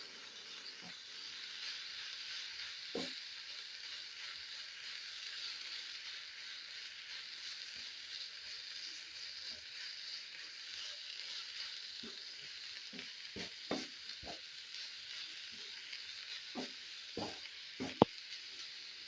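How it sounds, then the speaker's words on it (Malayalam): Amaranth greens stir-fry with salt in a pan for a rustic thoran, giving a long, even background sizzle broken by scattered spatula scrapes and taps near the end, with no voices. "ഇനി നമുക്കതിലേക്ക് ആവശ്യത്തിന് ഉപ്പിട്ട് കൊടുക്കാം. ഒന്നും കൂടി ഇളക്കി കൊടുക്കണം."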